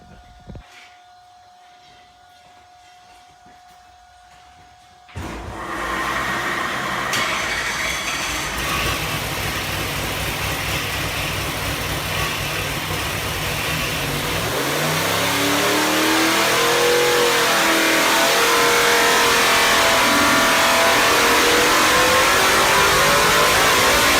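A 615 HP Ford 351 Cleveland V8 with stock iron 4V heads, a Holley Strip Dominator carburetor, 1 7/8 inch headers and MSD ignition roars to life on a dyno after a quiet pause, idles roughly, then revs steadily higher and louder.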